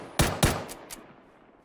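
Gunfire in the video game PUBG: two sharp, loud close shots about a quarter second apart, followed by two fainter trailing reports, with nothing else around them.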